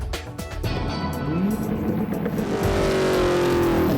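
A front-wheel-drive drag race car roars loudly down the strip on a competition pass, its engine note climbing steadily through the gears over constant noise.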